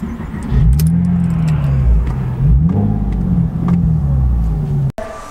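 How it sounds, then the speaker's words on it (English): A fully rebuilt car engine fires up for its first start, settling into a loud, steady rumble with a few rises in revs, heard up close and alone before it cuts off abruptly near the end. "Car's been fully rebuilt, so this will be the first start."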